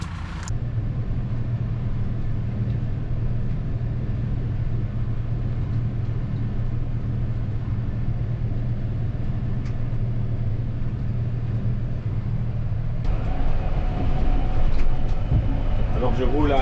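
A farm vehicle crossing a field at 15 km/h hums with a steady low engine drone for the full length, rising slightly near the end, while someone talks over it in French.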